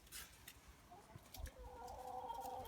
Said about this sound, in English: here they are, the chickens just coming back